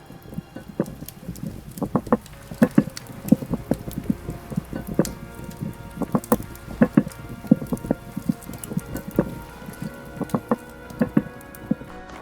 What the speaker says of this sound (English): I'm gonna console myself with the ASMR of a cooking pot